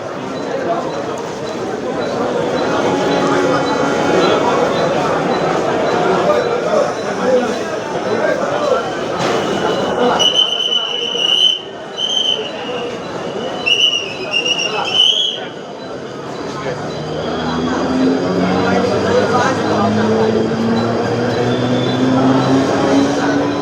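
A local train rumbles steadily into Badlapur station on its first run, with a loud brake squeal in the middle, while crowd noise and talking carry on throughout.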